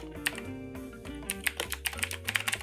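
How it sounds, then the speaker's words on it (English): Typing on a computer keyboard during a motion-graphics tutorial, a quick run of close key clicks over background music, with no talking. "And I'll go ahead and type out my name."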